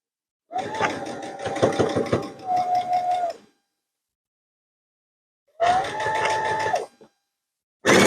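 A sewing machine stitches fabric in two motor-driven bursts at variable speed, the whirring hum rising and falling with short gaps of silence between runs and another start at the end; close and alone, no talk.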